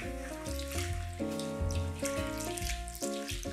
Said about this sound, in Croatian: 400 ml mlake vode.